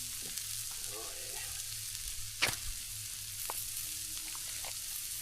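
Onions frying on an outdoor cooker at a boat ramp, a soft steady sizzle with occasional metallic scrapes and one sharp clank, fairly quiet and unbroken.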